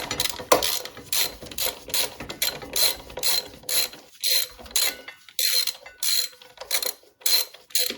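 Ratchet with a 12mm socket tightening brake caliper bolts on a Kawasaki ZX6R J2, a series of close, crisp clicking bursts in an uneven rhythm with short pauses between strokes.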